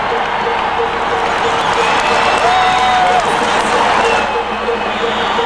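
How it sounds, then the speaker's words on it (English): Loud, steady roar of a packed arena crowd cheering and clapping at a 1981 DePaul versus Notre Dame college basketball game, sustained throughout with a few shouts and whistles rising above the din. "And listen to this crowd."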